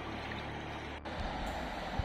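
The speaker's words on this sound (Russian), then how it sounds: "Вода шумит и несется стремительным потоком." Fast Siberian river water rushing over boulders and pebbles, a steady close broadband roar and hiss with no voices.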